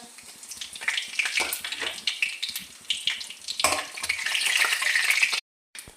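Cardamom, whole cumin and dried chillies crackling in hot oil for a curry make a close, busy sizzle with spatters and spatula scrapes that swell toward the end, then cut off abruptly; no talk.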